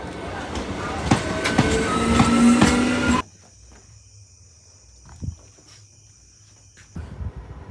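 A train at Guptipara railway station makes a loud, close rumble and clatter with a high metallic squeal for about three seconds. Then it cuts abruptly to quiet station ambience with faint scattered noises.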